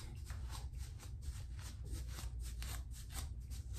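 A comb dragged through kinky, freshly cut hair, giving close, steady scratchy rasping strokes with small crackling pops repeated throughout, no voice present.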